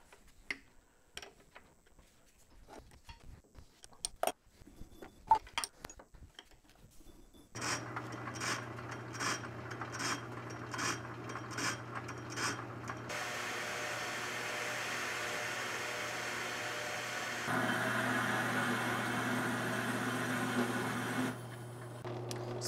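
Machining cuts on a scrap-built rotary table: a few scattered clicks and taps, then a steady motor drone with rhythmic scraping bursts from the cutter, growing denser and louder midway and holding on continuously.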